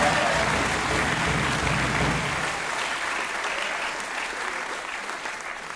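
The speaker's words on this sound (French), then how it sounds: "Donc merci de les applaudir vraiment." Sustained audience applause fills a hall at a student show, dense and steady clapping that gradually thins toward the end, with a few crowd voices mixed in.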